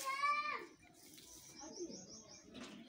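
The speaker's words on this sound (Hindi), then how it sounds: "बहुत खूबसूरत खूबसूरत कबूतर हैं यहाँ पर।" Pigeons coo softly nearby amid faint chirps in a Pakistani village, while children's voices carry in the background.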